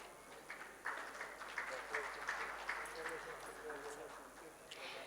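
Audience clapping at an award ceremony for microfinance banks, a scattered, moderate round of applause from a hall that swells in brief bursts and carries on steadily throughout.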